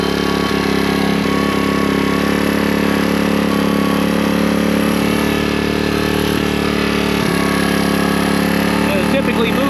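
A Suzuki DR200 motorcycle engine fitted with a new Nibbi carburetor runs steadily at a high, buzzing idle with an air leak, loud and close throughout, with faint throttle blips and no clear rev-up.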